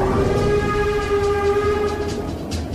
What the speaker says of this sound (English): This is a steam train. It's powered by coal.